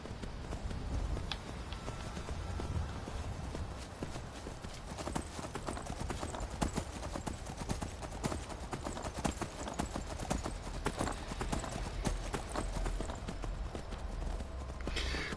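A horse's hooves clip-clop at a steady gait along a mountain path in the video game Skyrim, sounding continuous and fairly close, with a faint whinny in the mix.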